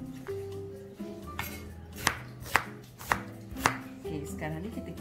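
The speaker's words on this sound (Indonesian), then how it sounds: "Jadi saya akan potong kecil ini untuk saya blend dia." Ingredients chopped small with a knife on a board for blending, four sharp, close knocks spaced about half a second apart, over a low kitchen hum and no talking.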